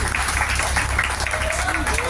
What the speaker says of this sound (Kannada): ಅದಕ್ಕಾಗಿ ಜೋರಾಗಿ ಒಮ್ಮೆ ಚಪ್ಪಾಳೆ.